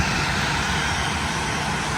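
An airplane passes over the seashore with a loud, continuous engine roar, broad and steady throughout the two seconds, close overhead with no voices.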